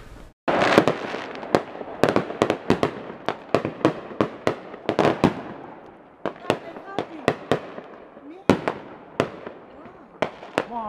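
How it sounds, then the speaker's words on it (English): Big fireworks explode outdoors around New Year, a rapid series of sharp, loud bangs and cracks with echoing tails, some close together and some spaced apart. "that is some big fireworks"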